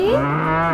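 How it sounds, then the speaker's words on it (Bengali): A single short, loud cow moo, low and steady, heard alone. "গরু বাছুর দাঁড়িয়ে আছে"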